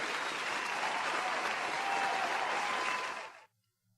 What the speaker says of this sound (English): Thank you for the claps, too.